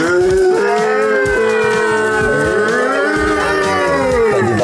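Children give a long, wavering moo in imitation of a cow, loud and close, while making chocolate crêpes at home.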